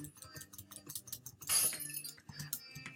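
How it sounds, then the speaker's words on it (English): Glass breaking in the Roblox-style game Jailbreak: a sharp burst of shattering and clinking shards around the middle, with lighter clicks and clatter before and after. "let's break this glass"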